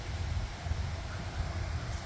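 Gusty wind outdoors after a passing cold front and heavy thunderstorms in Valparaiso, Indiana, roars as a steady low rumble of buffeting against the microphone with no pauses.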